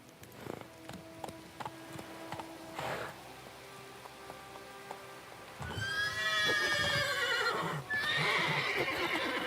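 A horse in The Witcher 3 on PS5 whinnies loudly with a rising, wavering call, then neighs again near the end, preceded by scattered clip-clop hoofbeats and a low background hum.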